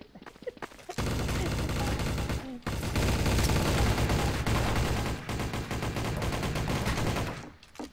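Sustained automatic gunfire in Garry's Mod erupts after a short pause, a dense, loud stream of rapid shots with a brief break before continuing for several seconds, then cutting off.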